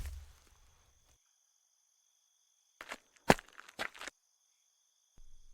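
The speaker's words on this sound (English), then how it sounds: "No, really stomp." Heavy stomping footsteps meant to scare off snakes come in a quick cluster of four or five thuds, close and distinct, set against near silence.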